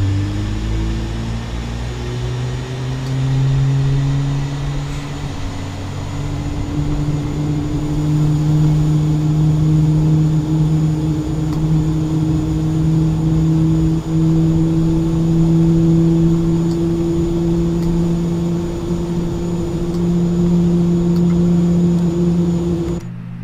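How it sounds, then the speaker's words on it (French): An A32NX airliner in Microsoft Flight Simulator 2020 heard from outside: a loud, steady jet engine drone with sustained whining tones that rise slightly over the first seconds, then hold evenly throughout. "Même le son des moteurs est amélioré, je trouve."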